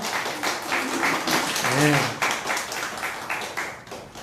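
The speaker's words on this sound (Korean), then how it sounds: "우리 호랑이 형제 오랜만에 왔는데 한번 박수를 격려할까요?" Church congregation clapping in a sanctuary, a steady patter of applause that swells and then trails off, while someone speaks over it in Korean.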